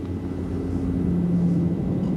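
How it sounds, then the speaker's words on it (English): Helicopter arriving in the video game Prey, a steady low droning engine rumble with a faint rotor hum, holding even and fairly loud throughout without voices. "Alright, let's do the helicopter arrival."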